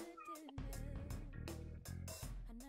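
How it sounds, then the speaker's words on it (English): A pet cat named Nico meowing several times in a row, close and fairly clear, each meow a drawn-out cry separated by short pauses, with faint background music underneath. "She keeps on meowing."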